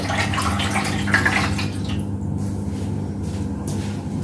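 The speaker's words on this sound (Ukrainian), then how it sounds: "поставили в духовочку в противень і наливаємо води десь сантиметрів 2" Water pouring and splashing into a shallow metal baking tray in an oven, about 2 cm deep, a steady close stream that thins out toward the end.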